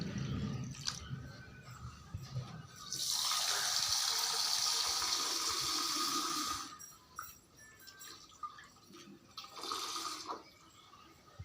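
Water from a tap runs into a container in two bursts, a longer loud gush of several seconds followed by a shorter one, with drips and handling noises between.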